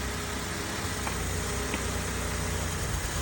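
A 2016 Chevrolet Impala V6 with about 147,000 miles idles steadily at auction after a jump start, a continuous low engine rumble with mild vibration and a couple of faint clicks.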